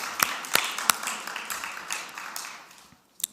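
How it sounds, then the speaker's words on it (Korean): A church congregation applauding during a Sunday worship service, several sharp individual claps over a soft patter that fades out near the end. "하나님께 모든 감사와 영광의 박수 올려드립니다."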